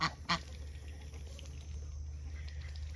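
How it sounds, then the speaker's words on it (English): A crested Indian runner duck gives two quick loud honking quacks up close at the start, then an outdoor pen settles into a quiet low background hum. "She's very vocal. She is one of my crested Indian runners."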